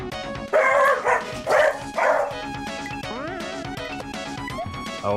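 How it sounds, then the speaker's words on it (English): An angry dog in a Kaizo Mario-style video game barks loudly three times in quick succession, followed by chirpy game music and sound effects, with no talking. "Oh, he's an angry dog."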